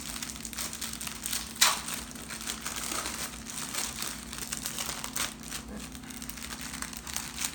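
Crinkly plastic wrapping and a cardboard tray rustle and crackle continuously up close as Reese's Pumpkins are unwrapped from their Halloween packaging, with one sharper crunch near the start.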